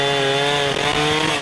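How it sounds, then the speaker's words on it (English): Loud, close chainsaw cutting firewood logs, a steady high engine whine with a brief dip as the chain bites into the wood. "But I enjoy sawing, and I enjoy, helping getting firewood for our folks in Beaverhead County."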